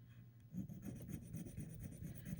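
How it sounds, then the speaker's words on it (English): A bead being rubbed against a surface to test it, a quiet close-up rasping friction in a quick repeated rhythm of short strokes, with no talking. "I'm gonna rub this one"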